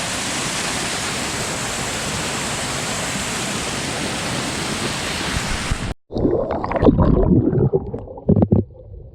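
Thattuwella waterfall in the Sinharaja rain forest roars as a loud, steady rush of falling water for about six seconds, then cuts abruptly to quieter mixed sounds.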